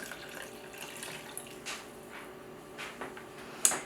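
A cup and a half of warm water at 117 degrees is poured into a bowl to make sourdough bread: a faint, steady trickle with a small clink near the end.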